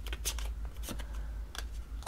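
Tarot cards being shuffled and drawn during a reading, with soft papery riffles and slides in several brief bursts, close by, ending in a sharper snap.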